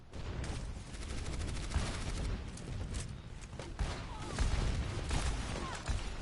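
Rapid gunshots and explosive pops crackle continuously through an Overwatch match, layered with busy game effects and occasional heavier booms.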